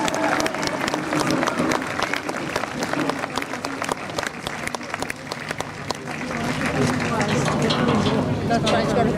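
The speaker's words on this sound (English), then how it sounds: "Big round of applause." Outdoor crowd applauding during a British Army Royal Engineers bridge-building demonstration, steady broad clapping alongside clattering and talk over the whole stretch.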